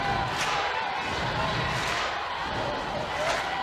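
Steady crowd murmur fills a college softball stadium, Jack Turner Stadium, during a Georgia versus Florida women's game, a continuous wash of many voices with faint cheering swells and no clear single event.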